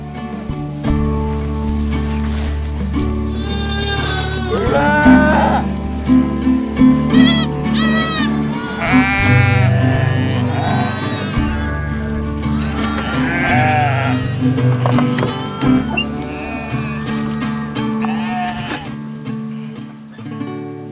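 Cashmere goats kept by steppe nomads bleat repeatedly and loudly close by, many overlapping wavering cries across about twenty seconds over a low steady music or drone bed.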